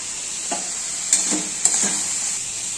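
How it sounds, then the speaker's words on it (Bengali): Spice masala stir-fries in a pan with a constant close sizzle, broken by a few sharp scrapes and clinks of the spoon as it is stirred. "এবার মশলাটা একটু কষলে আমি এই ডালটা ঢেলে দেবো"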